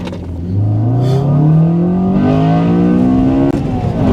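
A Honda Accord Euro R CL7 with a K20A VTEC engine pulls away hard from a standstill, its loud close-up engine note climbing steadily in pitch before a brief gear-change dip, then rising again.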